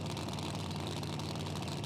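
Pro alcohol drag racing engines at the start line held at a steady, loud idle and revving, a dense low rumble with harsh mechanical roar continuous for two seconds.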